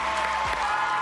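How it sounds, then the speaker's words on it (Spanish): Audience applause for the Alfa Crew reggaeton dance group at a Got Talent Argentina 2023 audition, a dense steady wash of clapping filling the short moment without a break. "Les pido un fuerte aplauso a ustedes y a ese maestro"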